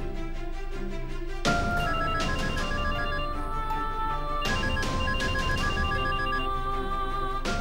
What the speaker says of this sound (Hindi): कोई तुम्हें बार बार फोन कर रहा है, फोन उठा लो